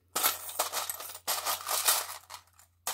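Small metal jewelry charms clink and rattle as a hand rummages through a box of them, giving close, bright jangling bursts separated by brief pauses.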